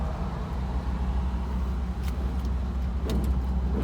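A 1965 Ford Mustang convertible rolls along a road with a steady low engine and road rumble, a few light knocks and rattles marking a bump as it passes smoothly over it.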